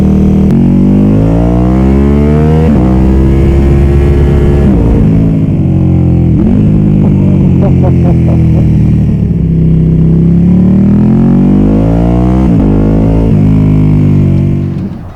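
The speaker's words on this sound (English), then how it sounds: "That is what a full titanium akrapovic exhaust system sounds like, with the rapid bike fuel controller, the Sprint air filter, on a full carbon 1299 Ducati Panigale." A carbon-bodied Ducati Panigale 1299 fitted with a full titanium Akrapovic exhaust, fuel controller and Sprint air filter revs hard up and down repeatedly, very loud and close with deep rising and falling engine tones and no talk.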